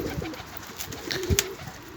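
Soft cooing of Baska pigeons, a few low throaty coos over a quiet background, fairly close and alone without talk.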